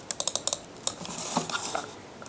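A quick burst of sharp clicks from an HP x1500 computer mouse, six or so in rapid succession, then one more, followed by faint softer tapping.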